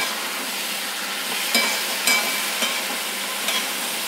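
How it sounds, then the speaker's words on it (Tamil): Small capsicums frying in oil in a pan for sambar, a steady close sizzle with a few light stirring clinks. "ஒரு 2 நிமிஷம் எண்ணெயில் பிரட்டிட்டு கொடமிளகாய் போட்டேன்."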